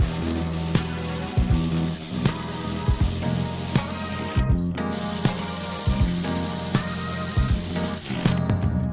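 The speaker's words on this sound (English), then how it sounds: "now you're going to hand tighten the 2 bolts. And we're going to tighten them down." A ratchet tightens the seat bolts inside a Porsche Cayenne during a battery replacement, repeated clicking strokes in a steady rhythm over several seconds, close and fairly loud, with no talking.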